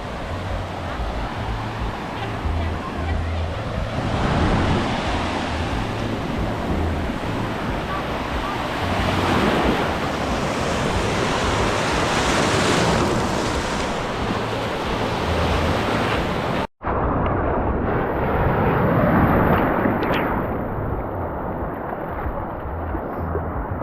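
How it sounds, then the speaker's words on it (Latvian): Sea waves wash onto a beach in Klaipėda, their broad surging roar swelling and fading in repeated waves, with heavy wind buffeting the microphone throughout and a brief dropout near the end. "Smuka viļņi."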